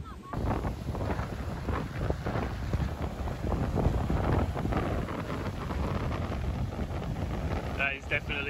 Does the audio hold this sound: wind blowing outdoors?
yes